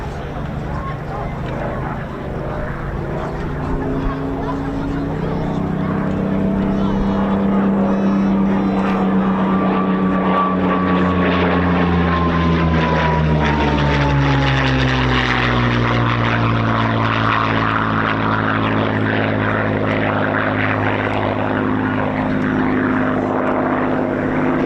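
A Hispano Buchón propeller fighter flies past at an air show, its engine drone loud and continuous with a sweeping pitch change as it passes, while a commentator talks over it throughout.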